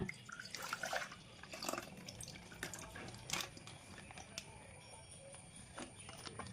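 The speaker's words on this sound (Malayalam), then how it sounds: "രണ്ടാമത്തെ പാക്കറ്റ് പാല് ഒഴിച്ച് കൊടുക്കണം" Packet milk pours into a pan, a soft trickling splash with a few drips, quiet and close.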